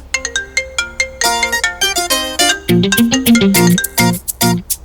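A melodic phone ringtone plays loud and close, a bright electronic tune of repeating notes ringing for several seconds.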